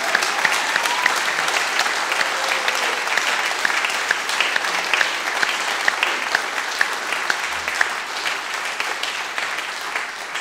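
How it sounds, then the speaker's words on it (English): A church congregation claps at a baptism service, dense sustained applause filling the room at steady loudness for ten seconds with no talk over it. "Let's give him another round of applause."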